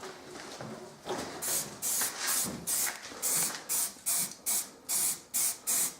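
An aerosol can sprays paint onto Toyota Supra car parts in a rhythmic series of short bursts, about a dozen crisp hissing blasts separated by brief pauses, close and fairly loud.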